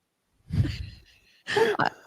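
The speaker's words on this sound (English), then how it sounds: "I can hear you breathing." Two audible breaths close to the microphone, a low exhale followed by a sharper, sigh-like breath after a short pause.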